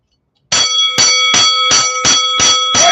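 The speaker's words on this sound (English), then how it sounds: "I'll bring my fight bells" Fight bells ring in seven sharp, evenly spaced strikes, each a bright metallic clang with sustained tone, loud and close with no talking.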